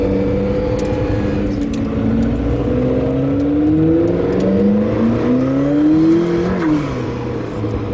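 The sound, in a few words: McLaren P1 engine driving on parade lap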